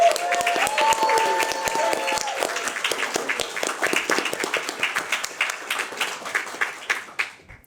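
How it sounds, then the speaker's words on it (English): A crowd at a senior NCO induction ceremony at Lajes Field in the Azores applauds new Master Sergeants: dense sustained clapping that thins into scattered individual claps before fading out. "How about a round of applause for our newer Master Sergeants?"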